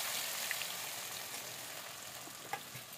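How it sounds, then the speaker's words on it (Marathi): Ground masala paste sizzling in a spoonful of hot oil in a kadhai, a soft, fairly faint continuous hiss with a couple of small pops, heard alone and briefly. "तेल गरम झालं की वाटण करून घेतलेला मसाला तेलामध्ये घालू."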